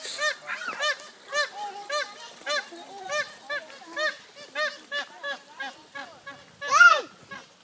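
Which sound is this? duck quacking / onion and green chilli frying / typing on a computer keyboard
duck quacking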